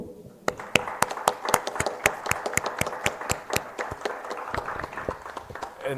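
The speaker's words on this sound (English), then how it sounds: "let's give an applause." An audience at a morning conference session claps together in a burst of dense, sharp applause that stays lively, then gradually thins toward the end.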